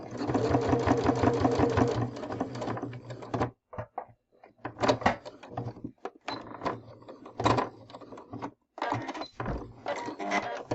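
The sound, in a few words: sewing machine stitching quilt binding up to the corner edge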